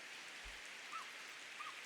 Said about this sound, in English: So now it's a 5-lap sprint to the end as the rain starts falling again